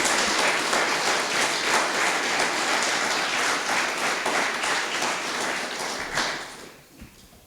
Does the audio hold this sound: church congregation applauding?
yes